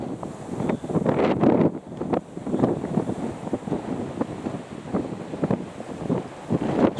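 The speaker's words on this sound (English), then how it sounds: "It's pretty windy here." Gusty wind buffets the microphone on a shallow beach at a sea fishing spot, roaring in uneven surges with a constant rush of air and water underneath.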